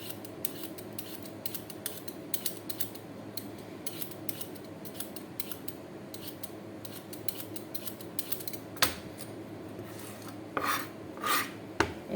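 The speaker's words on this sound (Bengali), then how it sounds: "তো আমি আলু তেনোটা ছুইলা এখন সুন্দর করে কাটবো।" Peeled potatoes sliced with a knife in a kitchen in Qatar, repeated crisp scraping cuts in a steady run against a constant background hum, close and fairly quiet, with a few louder knocks near the end.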